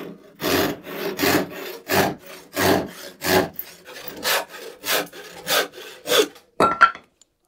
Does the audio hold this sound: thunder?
no